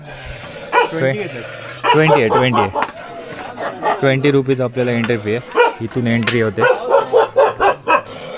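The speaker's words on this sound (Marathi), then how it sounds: "कुत्र्यांची भांडणं चालू आहेत." Dogs bark and scuffle near the entry point of the Brahmagiri trek trail in Nashik, their yelps and bow-wows mixed in beneath someone talking steadily at close range.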